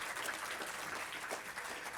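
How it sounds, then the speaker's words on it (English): An audience gives a round of applause at a city's State of the City event, a steady, even wash of clapping that holds for two seconds at a moderate, somewhat distant level with no talk. "Let's give a big round of applause"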